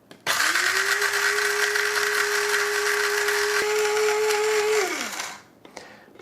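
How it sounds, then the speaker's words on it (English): An electric spice grinder pulverizes dried peppers into paprika, a loud steady whirring motor hum that holds for about five seconds with a grinding rattle, then winds down and stops near the end. "drop a bunch of these peppers into the grinder, put the top on"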